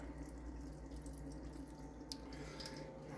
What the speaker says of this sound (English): I have a feeling that I do hear water running, but it is inside the pipe.